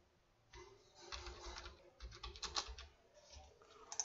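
Keys on a computer keyboard are typed in irregular bursts and short runs of clicks, close and moderately quiet, while an Aadhaar number is entered on a PAN card website.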